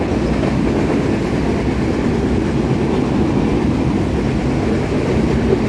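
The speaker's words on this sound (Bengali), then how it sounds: "এখানে এত শব্দ যে কথা হয়তো বা ভালো বোঝা যাবে না, তবে দেখুন ট্রেনের ইঞ্জিন" Loud, steady rumble and rhythmic clickety-clack of the Rupsha Express train on the Khulna line, heard close by from on board near the engine, continuous and droning throughout.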